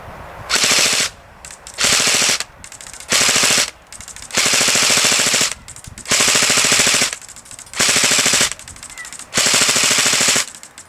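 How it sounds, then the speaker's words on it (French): A CM16 Raider M4 airsoft replica rifle fires full-auto bursts, roughly eight sharp rattling volleys of about a second each, loud and close, separated by short pauses, with no talking. "Au niveau du full auto, ça arrose plus qu'autre chose."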